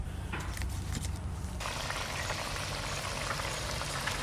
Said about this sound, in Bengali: গ্রেভি তো বেশ ভালো করে ফুটে গেল।